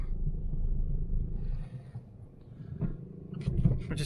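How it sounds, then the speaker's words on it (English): A car's engine revs and drops as it works through its gears, a close, steady low rumble with a lull midway and a few sharper mechanical clicks and knocks toward the end. "I'm just checking it goes through all the gears all right."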